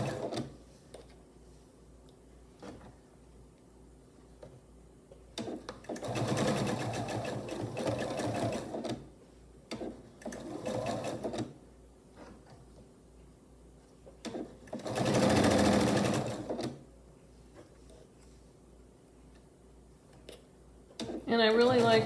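A sewing machine stitches quilt block seams with a scant quarter-inch allowance, running in three bursts of fast mechanical whirring that stop and start, with quiet pauses between runs and some nearby handling noise.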